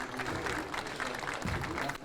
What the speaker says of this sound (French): Mais je crois qu'on peut l'applaudir. Un grand bravo.